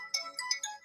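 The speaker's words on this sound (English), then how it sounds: "I'm sorry about my phone ring." Mobile phone ringtone playing alone, a bright repeating electronic melody of short rising tones in quick succession, clear and moderately loud.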